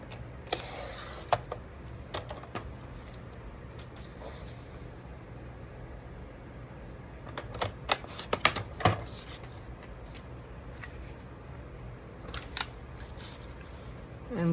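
Scissors snipping paper pages for a junk journal, close crisp cuts arriving in irregular bursts with quieter rustling of paper between them, and a cluster of snips near the middle.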